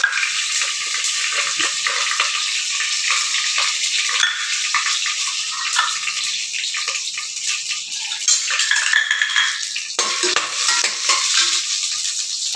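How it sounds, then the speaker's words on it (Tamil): Mustard seeds and lentils sizzling in hot sesame oil, a steady crackling fry with light stirring and occasional spoon scrapes against the pan, no voices. "கடுகு, உளுத்தம்பருப்பு பொரிஞ்சோடனே கடலைப்பருப்பு"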